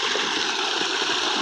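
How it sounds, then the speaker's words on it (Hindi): Water gushing from the pipe of a solar-powered tubewell pump on a farm, a steady loud rushing stream with no pauses, close by and filling the whole moment. "ही पैप के जरिए पानी आंदा पे वे"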